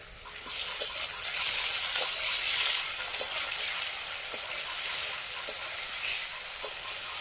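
Potatoes fry in mustard oil with salt and turmeric, giving a continuous hissing sizzle dotted with small pops and spoon clicks, close and moderately loud, no voices.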